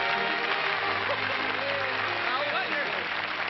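A studio audience applauds during the 1957 television broadcast honoring Duke Kahanamoku, a continuous dense clapping through a narrow old broadcast sound, with voices faintly mixed in.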